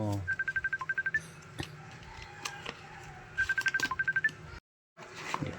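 A phone rings with an incoming call, two bursts of rapid repeated electronic beeps separated by a pause, loud and close over a background of room noise and faint activity.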